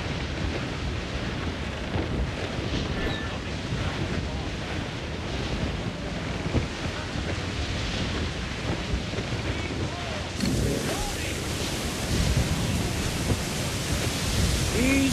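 A stormy sea in the Assassin's Creed IV Black Flag game roars with dense wind and crashing waves, loud and continuous throughout, with a rush of extra gusting in the final seconds.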